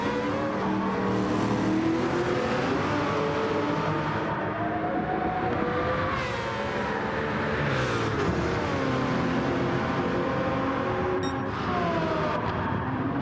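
Jaguar XJR9 Group C race car engine in Gran Turismo 7 at Fuji, a loud continuous drone with rising and falling pitch as it accelerates and shifts, blended with other cars running on track throughout.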